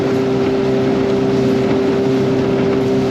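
Steady droning motorboat engine with a constant low hum and rushing wind noise, loud and continuous throughout.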